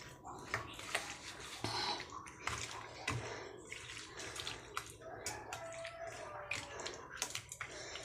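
Small pabda fish are washed with salt and turmeric under splashing water, close and continuous, with a voice speaking throughout.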